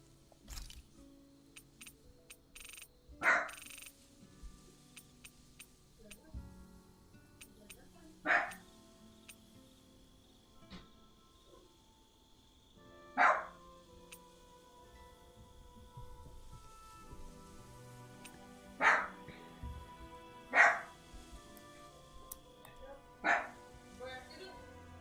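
Dogs give isolated, sharp barks spaced several seconds apart, about seven in all, fairly close and standing out over a quiet background with faint talk.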